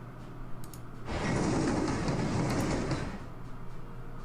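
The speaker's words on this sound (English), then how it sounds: "Bring the train over here." A train moving in a World War II strategy game, a short rumbling, rolling rail sound that swells up, holds for about two seconds and fades, over a faint quiet background with no talking.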